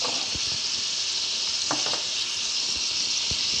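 Garlic frying in a pan for tomato chutney, a steady, dense sizzle heard close up with a few faint clicks of stirring and no talking.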